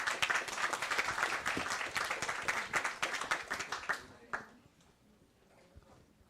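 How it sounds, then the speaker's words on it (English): An audience at a talk on disinformation and media literacy claps for a speaker being introduced, a fairly quiet burst of applause that thins out after about four seconds and fades into near silence. "Please give a round of applause for Miss Aurelia."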